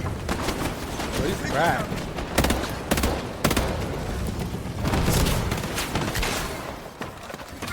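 Rapid bursts of automatic gunfire and sharp shots fill the game HighGuard, loud and close in repeated volleys, while a voice speaks briefly over the shooting.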